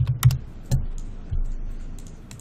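A few scattered keystrokes on a computer keyboard, close and fairly faint, with irregular gaps between taps and soft low rumble underneath.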